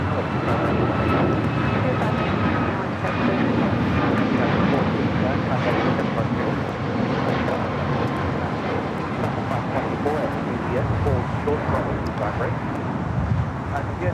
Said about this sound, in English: the Japan Airlines 777-300ER here at LAX, now pushing it back